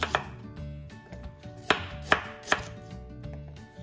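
A knife slices a small onion for kimchi sauce on a cutting board in a sharp series of crisp taps, a few isolated then three clear cuts in quick succession, close and fairly quiet.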